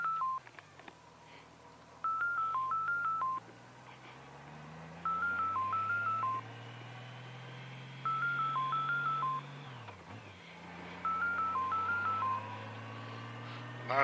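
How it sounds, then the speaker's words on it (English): A phone rings with repeated electronic tone bursts, four separate warbling groups spaced a few seconds apart, heard over the steady hum of a moving vehicle on a foggy morning drive. "There go the phone ringing."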